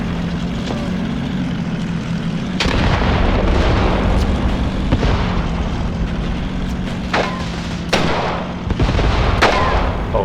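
Loud, rumbling battle noise from the Graviteam Tactics war game, with a steady low engine drone and several sharp blasts and bangs scattered throughout, with no talking.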